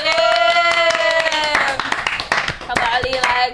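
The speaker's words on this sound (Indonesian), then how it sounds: "Selamat tepuk tangannya nggak ikhlas nih." An audience at a campus student-affairs show claps in quick, scattered rhythm, close and fairly loud, mixed with a voice and tonal background sound.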